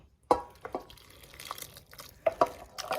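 Wet drips and splashes of thick tomato sauce landing in a pot, a few soft plops with a clink near the start, close by and moderately quiet.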